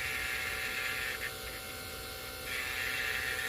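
A vacuum pump pulls a vacuum on a mini split system, giving a continuous, even hum and hiss that dips slightly in the middle and then swells again, with no talking.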